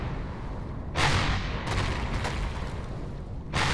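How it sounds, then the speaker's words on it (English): Explosions in the space survival game Empyrion Galactic Survival, heavy rumbling booms in bursts, a large blast followed by sustained crackling roar and another blast near the end. "Multiple explosions detected. More explosions."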